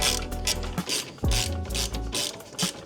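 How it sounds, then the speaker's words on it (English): A 13 mm ratchet wrench clicks rapidly on the rear bolts of a brake caliper on a Ford F-150 during a big brake install, close and crisp, with short bursts of ratcheting and brief pauses. "we're gonna start with our 13 mil wrench, and we're gonna hit up these two bolts on the back of our caliper"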